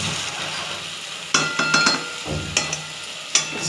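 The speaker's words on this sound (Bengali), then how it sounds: "এটা খুব ভালো করে এটা কষাতে হবে, কারণ চিকেনের মধ্যে মশলা না কষলে চিকেনের টেস্ট আসবে না" Marinated chicken with spices, yogurt and green chilli is stirred and sautéed in a pan, a steady background sizzle broken by several sharp scrapes and clinks of a utensil against the pan at close range.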